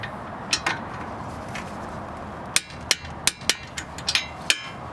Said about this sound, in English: Let's go ahead and torque it down.